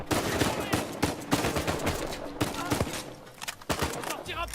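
Bursts of gunfire ring out in the video game Uncharted 4, rapid repeated shots in clusters with a sharp, loud crack, while a player talks over the action.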